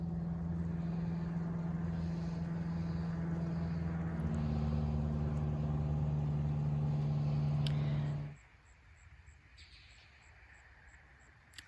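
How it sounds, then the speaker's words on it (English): A low, steady aircraft drone with a strong tonal hum that rises slightly in pitch midway, holding loud and continuous for about eight seconds before cutting off abruptly to near silence. "There's an airplane."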